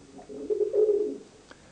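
Roller pigeons coo in a single soft, close, throaty phrase lasting about a second, followed by a brief faint tick, with no voices over it.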